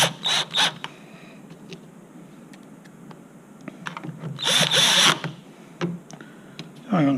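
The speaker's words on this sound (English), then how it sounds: "we'll proceed with fastening the screws back where they came from" A power drill driving screws into a plastic zip handle, giving short bursts of high whirring at the start and again midway, with clicks and handling noise between them and a voice talking close by.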